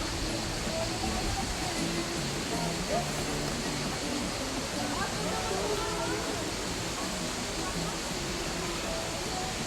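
A constant, dense rush of falling water fills the air, steady and unbroken, with faint voices barely audible beneath it.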